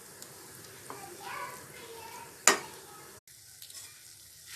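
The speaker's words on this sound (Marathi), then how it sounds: "त्याच्यामध्ये मी ही भेंडी घालून घेणार आहे आणि चांगलं मिक्स करणार आहे।" Okra stirred into masala in a frying pan, a soft sizzle with one sharp scrape of the spatula midway, and a voice faintly in the background.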